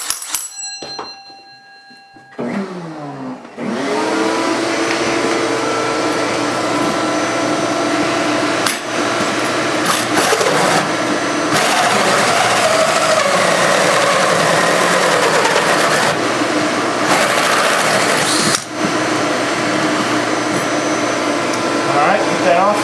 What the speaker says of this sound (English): we're going to hit the vacuum again